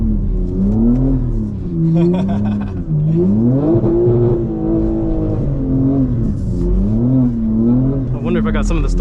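Engine of a 2024 BMW G82 M4 Competition xDrive while driving, its pitch rising and falling in smooth waves as it revs, loud and steady, with people talking over it throughout.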